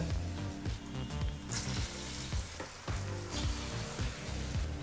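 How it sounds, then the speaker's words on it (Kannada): Vada batter deep-frying in hot oil on a medium flame gives a dense, continuous sizzle and crackle, close and steady, with faint clinks in the background and no talking. "ಎಲ್ಲ ಚೆನ್ನಾಗಿ ಡೀಪ್ ಫ್ರೈ ಇದೆ"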